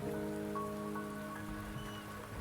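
Quiet rain patters in Wuthering Waves, a faint, even hiss of drops over a soft tonal background, lasting a couple of seconds with no voices.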